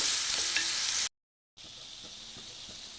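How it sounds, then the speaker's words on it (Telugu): Mutton curry with salt is stirred in a pan over a bright, steady sizzle, broken by a short silent gap before the quieter frying and stirring resume. "తగినంత సాల్ట్ వేసేసుకొని ఇప్పుడు కలిపేసుకుందాం మనం."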